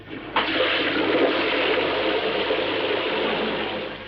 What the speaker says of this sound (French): Actionne la chasse d'eau.